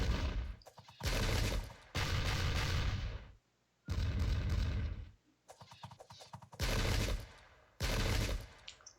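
Musket volleys crack out in heavy bursts during a Ming versus Japanese battle in Sengoku Jidai, loud rolling salvos separated by short gaps of quiet, with no voices.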